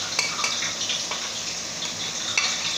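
Chicken sizzles steadily in a pot with powdered spices, a continuous dense frying hiss broken by a few light clinks and scrapes of stirring.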